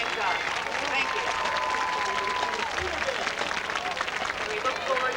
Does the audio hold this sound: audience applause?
yes